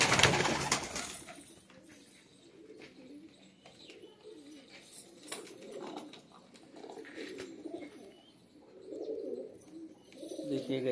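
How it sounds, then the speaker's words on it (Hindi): Loft pigeons coo in low rolling phrases that swell and fade in waves, opening with a loud burst of clatter and rising again toward the end. "ये कबूतर था वो"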